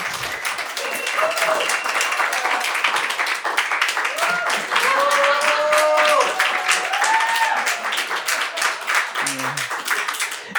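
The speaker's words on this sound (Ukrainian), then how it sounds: "Можете плескати." Audience applause fills a stand-up comedy show, a steady dense clapping that holds loud and even throughout, with faint voices mixed in underneath.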